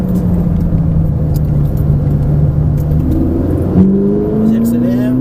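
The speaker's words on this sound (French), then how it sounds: "Allez, accélère un peu plus." A car accelerates during a driving lesson, its engine note holding as a loud, close drone and then climbing in pitch as the driver gives it more throttle, with a low rumble underneath throughout.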